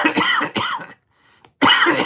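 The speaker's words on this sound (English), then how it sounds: "you're going to hear me cough" Three harsh, close coughs from a man, two in quick succession, then a short pause and a third.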